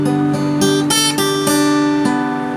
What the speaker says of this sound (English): And then it's a straight picking arpeggio from there.